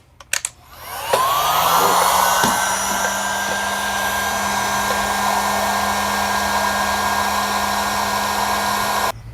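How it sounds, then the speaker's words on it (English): A heat gun blows a steady, loud whooshing stream of hot air while shrinking dual-wall heat shrink tubing over an electrical cable connection, running continuously after a brief click on. "And then we're just going to heat it up to shrink it."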